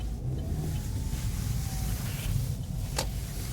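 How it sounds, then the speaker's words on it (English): A car approaches along a city street, its engine a low, steady rumble growing closer under broadband road noise, with a brief sharp sound near the end. "there's a car coming"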